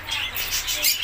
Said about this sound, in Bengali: এই ময়না পাখি এটা কথা বলে একটু কম আর এটা কথা বলে বেশি